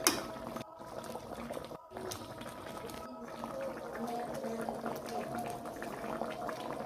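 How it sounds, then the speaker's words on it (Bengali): A pot of fish and eggplant curry broth for small hilsa simmers at a steady rolling boil, with a continuous bubbling wash and faint kitchen clatter early on, close and moderately loud. "এবার ঝোলটা ভালো করে ফুটে গেছে"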